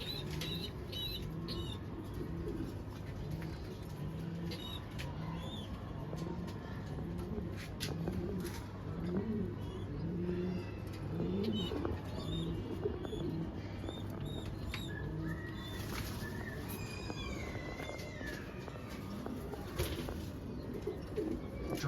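Grizzle pigeons in a loft coo in soft, repeated low calls while wings flap and clatter in bursts, with faint chirps and rustling throughout.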